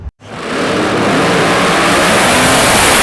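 A drag racing engine at a Western Australian drag strip roars up after a brief silence into a loud, sustained, close full-throttle blast that holds steady.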